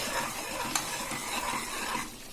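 Coconut milk boiling down in a pot over a low flame while being stirred, a steady bubbling sizzle with a scraping spoon and one sharp clink near the start.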